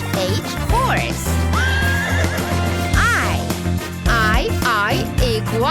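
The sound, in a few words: horse neighing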